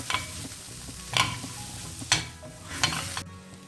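Shredded fish being stir-fried in a pan for a coconut fish chathachathu, a steady close sizzle broken by four sharp scraping stirs at roughly even intervals, with no talking.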